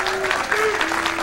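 Bowling tournament crowd at Lunar Bowl in Blue Springs, Missouri, applauding during a PBA Tour broadcast, dense sustained clapping close and loud, with a voice speaking over it.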